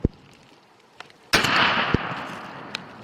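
A shotgun booms once at close range while turkey hunting, a sharp blast followed by a broad rolling echo, with fainter clicks and thumps around it.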